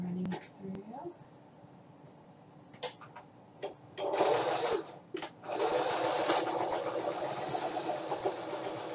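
A sewing machine runs through bodice sections in bursts, with a brief whir and then a longer steady stitching hum close by, broken by short pauses and small clicks.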